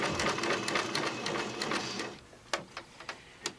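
Sewing machine stitching fabric, a fast continuous close mechanical chatter for about two seconds, then stopping into a few separate clicks and knocks.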